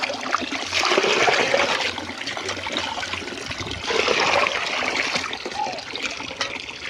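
Water poured over newly planted pechay seedlings in a vegetable plot makes a steady splashing trickle. It is moderately loud and continuous, swelling around the first and fourth seconds.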